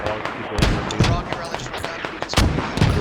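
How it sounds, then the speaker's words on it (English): Mortar artillery fire in the tactical shooter video game Squad, a rapid series of sharp, booming impacts and blasts in irregular bursts that dominate over a busy battlefield background. "Mortars preventing them moving any further."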